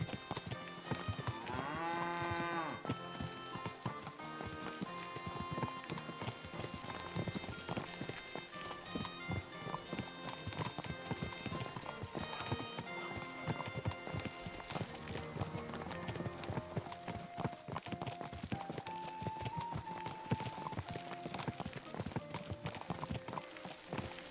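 Horse hooves clip-clop steadily in the video game Kingdom Come Deliverance II, a continuous close rhythmic trot mixed under background music.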